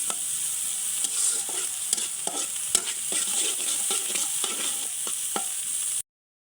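Onions fry in a pan, a constant bright sizzle broken by repeated sharp scrapes and taps of a spatula stirring them, close and moderately loud, ending abruptly; no talking.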